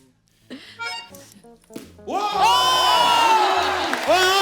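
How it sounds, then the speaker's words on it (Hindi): Studio audience on a comedy talk show cheers, whoops and applauds the women's World Cup-winning cricket team, starting with scattered shouts and building into a loud, sustained roar of clapping and cheers. "जोरदार जोरदार तालियां हमारी क्रिकेट टीम के लिए।"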